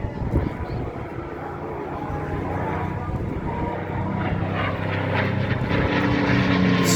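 A P-51 Mustang propeller fighter passes at an air show by the sea at Clacton, its steady engine roar holding loud and constant, with faint crowd voices and wind underneath.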